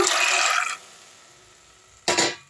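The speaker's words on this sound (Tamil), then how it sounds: "இந்த பச்சை பச்சை பட்டாணியை வந்து ஊறின தண்ணியோடு போட்டு போனோமா" Green peas are tipped into a pan along with their soaking water while making pea gravy: a loud splashing pour, a pause, then a second shorter gush of liquid.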